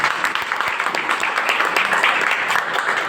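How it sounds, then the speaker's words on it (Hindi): A seminar audience applauds in a steady, dense burst of clapping that fills the room and holds at an even level throughout. "मारिए ताली अपने लिए एक बार।"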